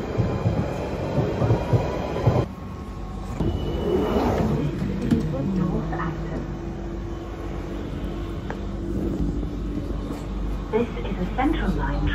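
London Underground Central line train running through a tunnel, a loud steady rumble with rattling wheels and occasional squeal, while people talk over it.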